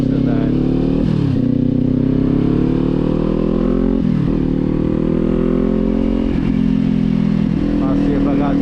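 Kawasaki Z400 motorcycle exhaust roars loud and close while riding, a steady droning engine note with several quick dips and rises as the rider shifts and rolls the throttle back on.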